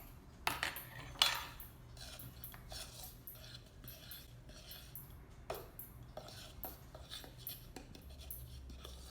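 Noodle dough of flour and salt being mixed in a bowl, heard as faint, irregular scraping and clinks of a utensil against the bowl, with a couple of sharper knocks early on.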